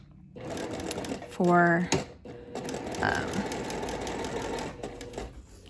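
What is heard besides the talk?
sewing machine stitching a French seam pocket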